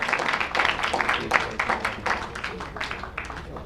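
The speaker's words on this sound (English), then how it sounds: "Please give a big round of applause." A Toastmasters audience gives a round of applause, a dense, lively spatter of hand claps that rises and falls slightly in strength and fades toward the end.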